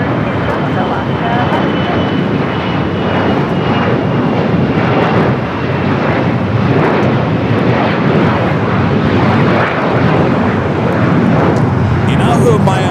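A jet airplane roars steadily and loudly at Los Angeles LAX airport, a continuous broad engine rumble that persists throughout without letting up.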